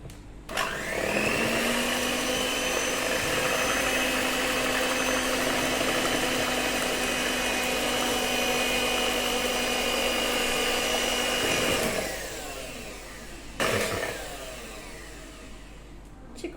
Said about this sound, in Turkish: çikolata karışacak kadar mikseri çalıştırdım.